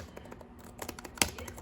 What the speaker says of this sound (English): the keyboard itself has the same button as all the other Chromebooks, and seems very clicky